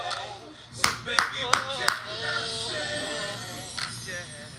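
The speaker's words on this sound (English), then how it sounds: "Clap 3 times. That takes the negative energy away." Hands clap three or four sharp times in quick succession, close and crisp, over a song playing in the background while a voice talks.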